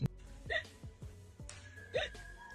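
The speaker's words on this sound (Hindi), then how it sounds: "देखो इतनी हिचकी क्यों आ रही है?" A man hiccups repeatedly, with a few sharp, close hiccups spaced about half a second apart and faint background sounds between them, at low overall loudness.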